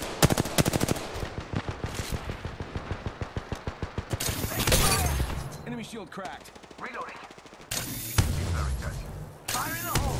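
Rapid automatic gunfire in the Apex Legends video game, a long rhythmic burst of close, loud shots followed by a few more short bursts, with a voice speaking in between.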